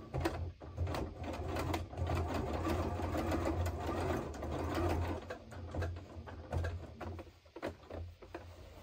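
A sewing machine stitches a side seam on a Christmas-collection door stop, running in a steady continuous whir with brief pauses where the fabric is lifted and turned, close and fairly loud.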